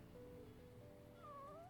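A cat in the video game Yakuza 6 meows in drawn-out wavering calls, faint and alone over a low background hum, two cries overlapping near the end.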